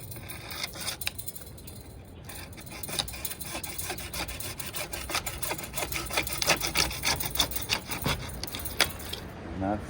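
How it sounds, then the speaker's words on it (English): A hacksaw cuts through metal trim for a deck ceiling, giving a steady run of close rasping back-and-forth strokes that grow a little louder and denser toward the end. "I cut these with the hacksaw because they are a lot better"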